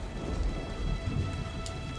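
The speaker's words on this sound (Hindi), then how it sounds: "तभी जोरों से तेज बारिश होने लगती है और शामू की टूटी फूटी गौशाला के छत से पानी टपकने लगता है।" Heavy rain pours and drips through the broken roof of a cowshed in a steady, dense wash, with a low thundery rumble underneath, continuous and fairly loud throughout.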